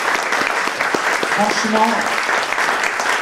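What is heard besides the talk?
audience applause for Karim Akouche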